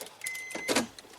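A 2006 Honda Pilot ignition being turned with the key, giving a short mechanical click and jingle of keys followed by a brief electrical whir, close and fairly quiet, with no talking.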